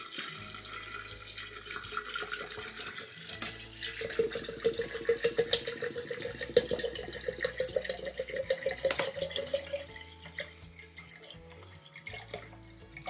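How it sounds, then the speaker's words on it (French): Water poured into a container while making mint mead, a soft gurgling, trickling stream that swells in the middle and then tapers off, fairly close and quiet, with no talking. "On met de l'eau."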